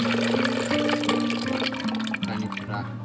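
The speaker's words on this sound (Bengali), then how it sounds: "একটি হাঁড়িতে ডাবের পানি নিয়ে নিচ্ছি" Coconut water pours into a cooking pot, making a close, continuous splashing gurgle that shifts in pitch as the pot fills, then turns to softer trickles and drips.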